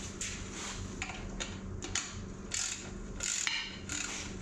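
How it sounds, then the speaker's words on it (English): Bolt on the center support of a TH400 trans-brake drag-racing transmission being torqued, with a series of quiet, close ratchet clicks and metallic ticks in short bursts, alone without speech. "So I'm inside with the screwdriver holding the center support counterclockwise, torquing the bolt."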